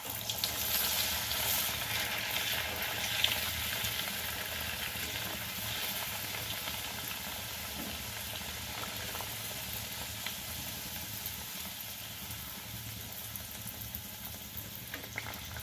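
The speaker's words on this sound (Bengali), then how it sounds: "দেখো এবার কচুরিগুলো আমি ভেজে নিচ্ছি।" Kochuri, pea-stuffed Bengali puris, deep-frying in a pan of hot oil, giving a steady, dense sizzle that holds at an even level throughout with small pops and crackles and no voices.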